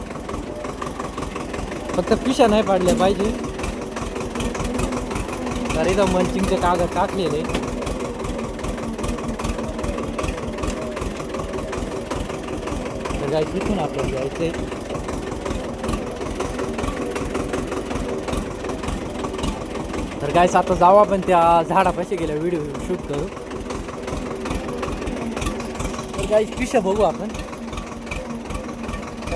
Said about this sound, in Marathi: तुम्ही पाहू शकता ट्रॅक्टर कसं चाललं आतमध्ये